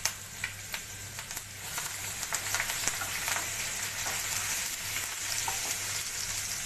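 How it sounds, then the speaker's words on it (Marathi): Garlic and curry leaves fry in oil in a pan for an Ambat Chuka gargat, giving a steady close sizzle with a few stirring clicks at the start and no talking. "लसूण, लसूण गुलाबी होईपर्यंत परतून घेऊया"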